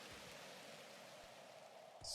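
Player-cast rain in the god game Universim, a soft, even hiss of falling rain that holds steady throughout at low level, with a brighter burst at the very end.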